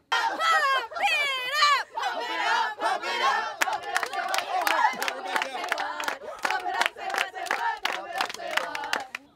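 A youth softball team of girls shouts a rhythmic group cheer outdoors on the field, starting with sustained yells and then settling into a chant punctuated by sharp, evenly spaced claps.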